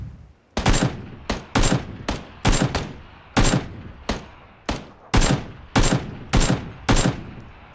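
Rapid bursts of automatic gunfire in the battle royale game PUBG, about a dozen loud, sharp volleys in close succession, each with a quick decaying tail, and no talking over them.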